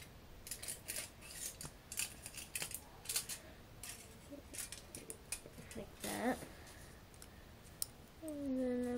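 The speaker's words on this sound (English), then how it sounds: "I'm just gonna cut out a very small" Scissors snip out a small square of paper for a homemade doll mirror, with a run of close, crisp clicking cuts followed by a short pause and a brief rustle.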